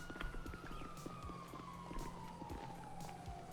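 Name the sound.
police siren in video game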